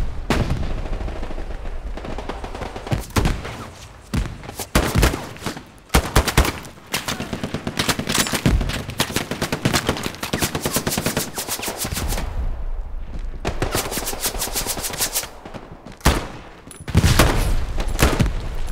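Sustained machine gun fire and scattered gunshots in the World War II shooter Hell Let Loose, heavy bursts rattling almost continuously with brief lulls, loud and close, no voices.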